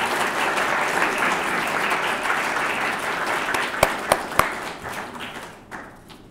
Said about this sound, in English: Please join me in a round of applause and appreciation for Mrs. Malone